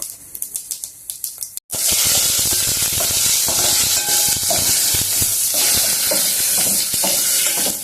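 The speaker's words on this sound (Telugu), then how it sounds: "యాలక్క చెక్క బిర్యానీ ఆకు కొంచెము షాజీరా అన్నీ వేసుకొని కొంచెం వేగనిద్దాము" Cardamom, cinnamon, bay leaf and shahjeera drop into hot oil for tomato rice, and after a few light clicks a loud, close, continuous sizzle and crackle takes over.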